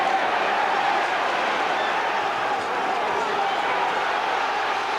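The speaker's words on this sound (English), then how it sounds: "the Ben crowd now are cheering their man on every time he pins Piper on the ropes" A boxing crowd backing Nigel Benn against Nicky Piper roars in a dense, continuous wash, heard under a commentator's steady talk.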